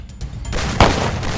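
A shotgun firing in the mobile shooter Free Fire, one sharp heavy boom standing out from a loud, busy background of game noise, with softer thuds around it.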